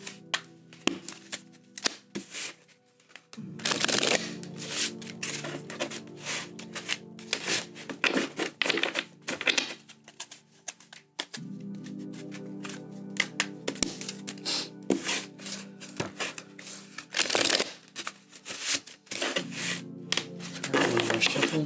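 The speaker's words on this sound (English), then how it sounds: "Bear with me as I shuffle here." Tarot cards are shuffled repeatedly in rustling, snapping bursts, with pauses between rounds and a voice speaking now and then.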